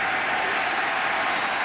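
A stadium crowd at a Bears vs Steelers NFL football game roars and applauds after a Pittsburgh touchdown, a dense, sustained wash of cheering.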